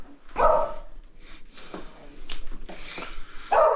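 A dog barks indoors near a DIY workspace, a few close, sharp woofs at the start and end with softer whimpers and yips between, no talking.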